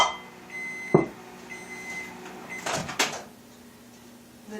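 Microwave oven softening butter: a faint steady hum with clunks of the door and a sharp beep near the end, close and otherwise quiet.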